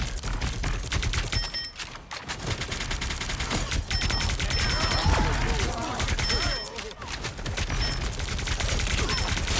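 Rapid automatic gunfire from the video game Marvel Rivals, dense bursts of loud shots rattling almost continuously with a couple of brief pauses, crisp and close, with faint talk underneath.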